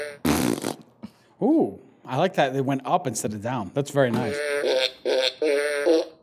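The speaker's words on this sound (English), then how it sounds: "Fart, belch, and vomit." A toy sound-effects gadget plays a short loud electronic fart at the start, followed by people talking over several more brief buzzy noises from the toy.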